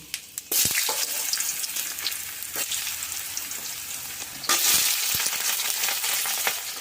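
Potatoes frying in hot mustard oil with spices, a loud, steady close sizzle with bursts of crackle and stirring scrapes throughout.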